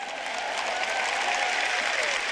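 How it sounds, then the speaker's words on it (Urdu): An audience claps together in a steady, dense wash of applause during a sermon, sustained and fairly loud throughout with no voices over it. "کیا آپ اپنے لیے تالیاں بجائیں گے؟"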